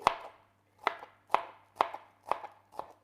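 A knife chops capsicum into a fine dice on a board, six crisp, evenly spaced chops close up, each ringing briefly in an otherwise quiet kitchen.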